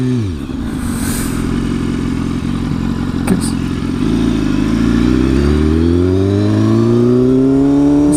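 A 2016 BMW S1000RR Premium sport bike fitted with an SC Project exhaust, heard while riding on country roads: a loud, close engine drone that dips, then climbs steadily in pitch as the rider accelerates, with no speech.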